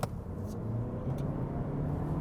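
A 2024 Honda Civic Turbo and a Mazda3 launching from a standstill, a steady low engine rumble building as both cars accelerate, with no talk over it.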